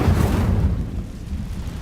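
Incendio fire spell from Hogwarts Legacy, a heavy booming flare of flame up front that sinks into a low, lingering rumble, loud and close with no voices.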